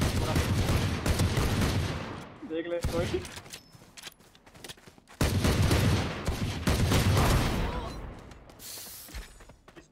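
Rapid gunfire from the tactical shooter Valorant during a run-and-gun push, loud bursts filling most of the stretch with a brief lull midway, while a player talks over it.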